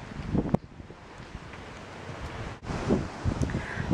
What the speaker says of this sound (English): So it might be a little bit windy